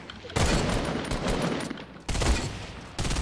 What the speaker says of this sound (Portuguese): Eu atirei na pedra.